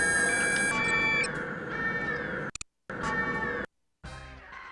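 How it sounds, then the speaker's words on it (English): A wailing electronic alarm sounds in the video game The Operative: No One Lives Forever, loud and steady with a rising-falling siren tone, cutting out abruptly twice before resuming. "Don't set the alarm off."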